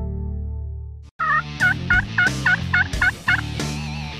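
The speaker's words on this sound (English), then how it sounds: "These turkeys start gobbling on their own." Wild turkeys in Kentucky gobbling, a quick run of about seven loud rattling gobbles close by, following a low sustained tone and a brief pause.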